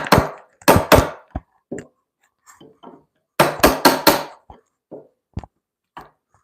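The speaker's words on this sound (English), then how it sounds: "It feels like my chisel is dulling" A chisel cuts a mortise into timber for a timber-framed joint. Sharp, close mallet-on-chisel strikes come in quick bursts of two or three, separated by quieter taps, scrapes and short pauses.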